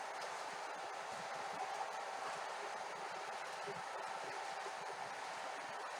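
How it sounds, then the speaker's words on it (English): A long model train pulled by three locomotives runs on an easy layout track, a faint, steady rolling whir with a subtle pulsing quality that continues evenly throughout. "Kind of weird how the train pulsates, which could be because they got 3 locomotives on there and it's a long train."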